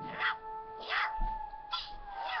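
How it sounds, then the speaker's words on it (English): A ghost dog in the Luigi's Mansion video game gives three short, high, whining barks at an even pace, fairly faint and clear, with no talking over them. "Oh, look at the ghost dog again."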